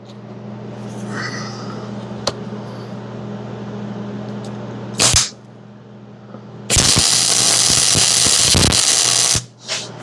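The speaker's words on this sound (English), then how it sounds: "Now I'm just going to put a little tack on the top and the bottom." Tack welds joining two quarter-inch steel plates, heard as a brief crackling burst near the middle followed by a longer, steady sizzling arc lasting a few seconds, then a short final crackle, all close and fairly loud.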